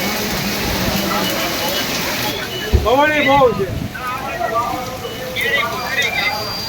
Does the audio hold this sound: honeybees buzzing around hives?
no